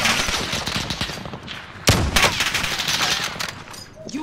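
Gunfire in a video game: rapid, dense bursts of automatic fire at close range, with a louder volley midway, as men call out over the shooting.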